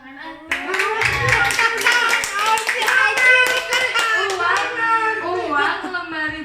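An audience at a pesantren gathering claps hands together while children's voices chatter and call out loudly on top, the clapping blending into the lively talk.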